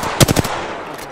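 A short burst of three or four loud, close gunshots from a weapon in the battle royale game Apex Legends, fired in quick succession and followed by quiet.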